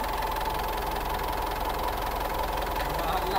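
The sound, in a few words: car engine running with oil pumping problem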